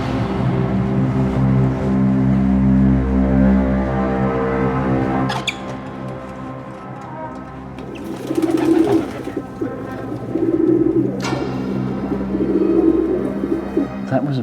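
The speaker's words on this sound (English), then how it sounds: "That was a pigeon." A pigeon coos inside a cave, a series of soft, low repeated coos that echo in the second half, after a stretch of rumbling hum and a few sharp clicks.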